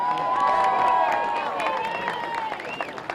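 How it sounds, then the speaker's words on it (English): Crowd cheering and applause for a women's soccer team at a college football game broadcast, with a loud mix of clapping and shouts carrying under a prominent voice speaking over the noise. "Let's give a round of applause for the Thunder women's soccer team."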